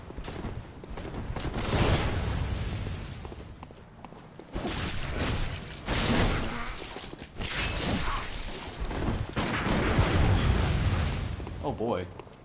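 Bursts of gunfire and heavy impacts crash through combat in the video game Bloodborne, coming in loud, dense waves separated by short lulls, with a voice talking over them.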